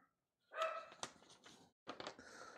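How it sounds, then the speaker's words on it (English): A dog barks indoors in a few quick, faint bursts, one cluster of yaps followed by a pause and then another short run. "Sorry about the stupid dog."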